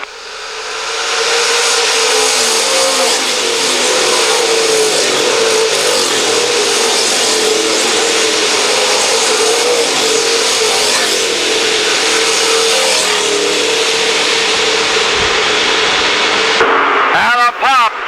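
Street stock race cars roar down the long back straightaway of a dirt track at the Kansas State Fairgrounds, a steady loud engine drone for most of the run, fading near the end.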